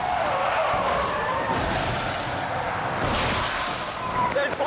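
An SUV skids into a fishtail spin after a patrol car strikes its rear during a police pursuit, giving a loud, sustained rushing tire scrub and roar with bursts of noise throughout.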